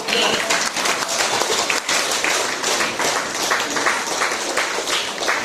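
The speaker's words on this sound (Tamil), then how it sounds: "கொஞ்சம் கரகோஷம்" An audience at a student prize-giving ceremony applauds loudly and continuously, a dense wash of clapping that fills the whole stretch.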